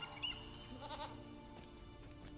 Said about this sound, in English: The goats always sound like they're gonna die.